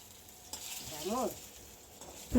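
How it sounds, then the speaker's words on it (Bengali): Fish frying crisp in a pan on a home stove, with a soft continuous sizzle and a few stirring scrapes; quiet and close, with a brief faint voice-like tone in the middle. "মা কড়কড়া করে মাছগুলো ভেজে নিচ্ছে"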